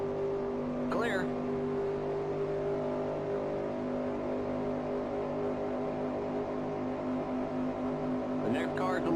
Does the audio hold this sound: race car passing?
yes